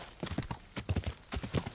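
Horse hooves clip-clop in the medieval game Kingdom Come: Deliverance, a steady trotting rhythm of close, crisp hoofbeats with no talk over them.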